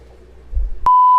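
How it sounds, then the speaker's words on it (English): A bright electronic notification bell beep rings out as a sustained clear tone after a short low rumble, loud and alone with no talking. "Boop! The notification bell."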